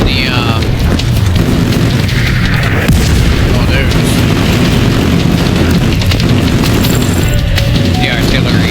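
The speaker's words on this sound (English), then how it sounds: "And I got my own artillery pieces" A loud, continuous artillery barrage in The Division 2 delivers heavy booming blasts and rumbling impacts one after another, with faint voices mixed into the din.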